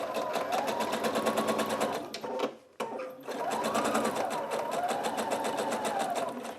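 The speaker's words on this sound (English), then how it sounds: "You're going to place the needle right over your either zigzagged edge or your serged edge. And you're just going to do a straight stitch all the way across." A sewing machine runs a straight stitch across the serged or zigzagged edge of folded fabric, a steady rapid mechanical whirr that pauses briefly midway, then resumes at an even pace, close and clear with no talking.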